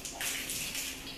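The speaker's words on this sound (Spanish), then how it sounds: "Van a seguir tirando agua a esta parte de la losa rajada" Firefighters spray water on a burning hospital with a steady, close rushing hiss, a brief uninterrupted gush with no voices.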